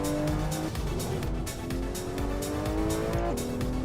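A 2015 Porsche 911 Turbo S in a sim racing game, its engine droning steadily with rising and falling revs, shifting gears and tires squealing through corners, loud and continuous with no talk.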